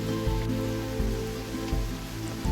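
Heavy monsoon rain in Kerala falls steadily and loudly, a dense continuous wash of drops close by, with no voices.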